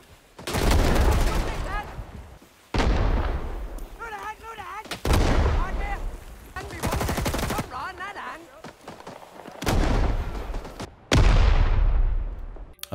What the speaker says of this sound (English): I did notice the new explosion sounds right off the bat.